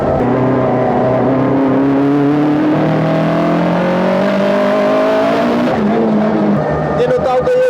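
Skoda Felicia Kit Car rally car engine, a loud close engine with rising and falling revs and shifting pitch through the clip, with someone talking over it.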